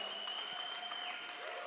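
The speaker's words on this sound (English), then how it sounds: "Give him a big round of applause right here, Adamillion." Applause at a hip-hop talk and cypher workshop, a soft, continuous patter of clapping heard at a distance, partly masked by steady tonal hum and room noise.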